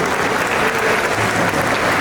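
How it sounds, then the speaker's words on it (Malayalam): Steady, dense applause from a large audience at a film trailer launch event, continuous and fairly loud throughout with no pauses. "ഈ അവസരത്തിൽ നിങ്ങൾ എല്ലാവരും ഒരുപാട് കൈയടിച്ച് പ്രോത്സാഹിപ്പിക്കും"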